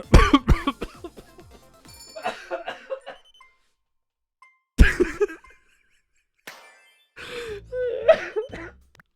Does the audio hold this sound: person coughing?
yes